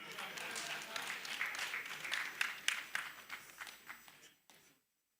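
A church congregation applauds the Archbishop of Canterbury during an official visit, a dense burst of clapping that swells and then tapers off to silence over several seconds.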